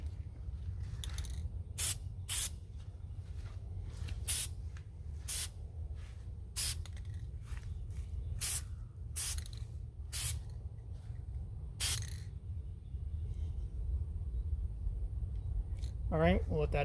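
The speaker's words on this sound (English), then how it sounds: "I'm using a different nozzle that came with the spray can" Repeated short bursts from a spray paint can coating an AR upper receiver, about a dozen sharp hisses of varying length separated by brief pauses, close and loud over a steady low background rumble.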